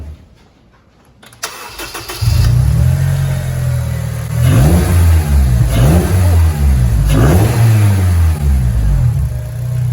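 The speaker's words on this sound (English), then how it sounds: "the induction sound is slightly drowned out by the exhaust, but you can definitely hear it going like that" A modified Honda Accord CL9 starts up, then revs three times in quick, loud blips above a steady idle, its intake roar mixing with the exhaust note, close and clear with no talking.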